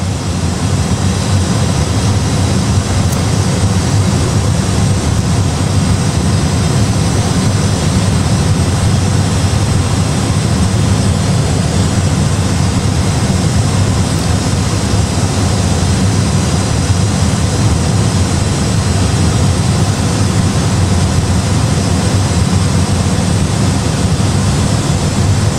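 Steady, loud cabin drone of an Airbus A320 climbing to cruise altitude in a flight simulator game, a constant broadband engine roar with no talk.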